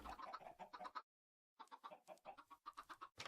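Chickens and chicks clucking in a pen in the TerraFirmaCraft modded Minecraft game, a busy run of short close clucks that stops briefly and then resumes, with no talk.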